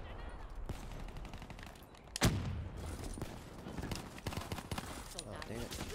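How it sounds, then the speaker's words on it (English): Gunfire and Sparrow bow shots ring out in a Black Ops 3 multiplayer match, with scattered rapid shots and one sharp loud blast amid ongoing battle noise, while a player talks over it. "someone's shooting a Sparrow. That's what it is."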